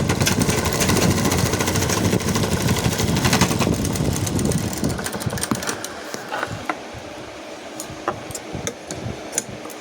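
A sewing machine stitches a cloth sun cover for the hand in a steady, loud mechanical rattle that eases and turns more irregular and ticking after several seconds.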